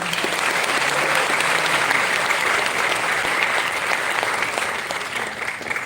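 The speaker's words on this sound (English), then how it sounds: "please let us give a round of applause to Mr. Rajesh Sharma" Sustained audience applause at an Aam Aadmi Party event, steady and dense for about six seconds and tapering slightly toward the end, with no voices over it.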